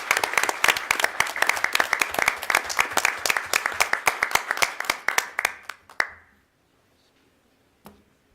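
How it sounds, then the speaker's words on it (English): Audience applause at a school board meeting, a dense run of clapping lasting about six seconds before cutting off to quiet, followed by a single faint clap near the end. "So one more round of applause"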